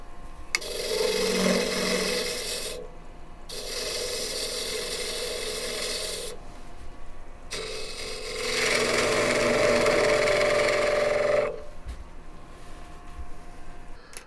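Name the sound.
wood lathe turning the corners off a ball box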